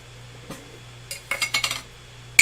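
A metal teaspoon clinks against measuring spoons and containers while baking soda is measured for a keto lemon loaf, a quick cluster of light taps and scrapes ending in one sharp clink.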